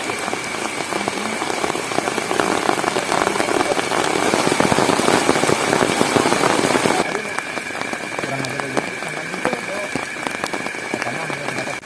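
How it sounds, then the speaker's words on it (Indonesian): Heavy rain drums steadily on a tent during a night of camping, loud and dense throughout, easing slightly partway, with soft voices talking under it. "Rintiknya jatuh pelan, lalu sedikit deras, menjadi backsound alami yang mengiringi obrolan santai kami."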